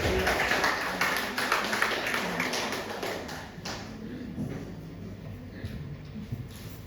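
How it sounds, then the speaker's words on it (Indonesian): A church congregation claps hands together, a dense wash of overlapping claps that is loud at first and then thins and softens as it goes on. "Ayo beri tepuk tangan bagi Tuhan."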